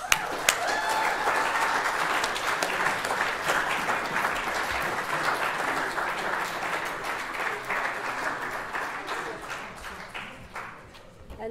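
Sustained audience applause fills a sixth form prize giving ceremony, a dense, steady roll of many hands clapping that holds for about ten seconds before thinning slightly toward the end.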